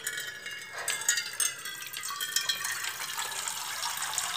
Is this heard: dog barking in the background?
no